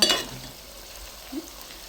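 Mutton frying in a pan while being stirred for a curry, a soft sizzle with a scrape of the spoon at the start and another brief stir later, faint and close with no talking.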